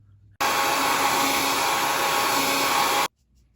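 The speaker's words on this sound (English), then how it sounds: "This is my hair dryer to dry it down." A hair dryer switches on and blows with a steady, loud whooshing roar for nearly three seconds, then cuts off abruptly into silence.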